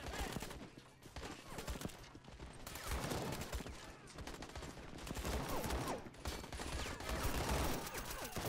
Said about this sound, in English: Took him out with a pistol.